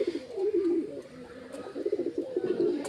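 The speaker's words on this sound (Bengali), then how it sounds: "দেখো চিকু ডাকছে," A pet pigeon coos nearby in a soft, repeated throaty rolling call, faint and close, with light background rustle.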